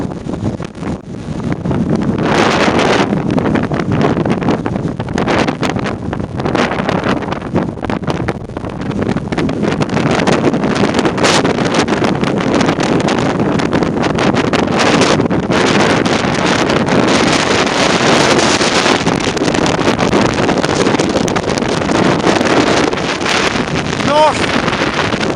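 Strong wind buffets the microphone in loud, roaring gusts that barely let up on a mountain summit in the Lefka Ori, Crete, with a voice occasionally breaking through.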